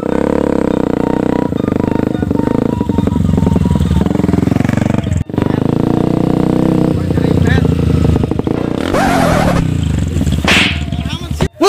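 A motorcycle with a loud exhaust roars close by in a Sundanese village setting, its engine note rough and sustained with a few sharp bursts, while people talk over it.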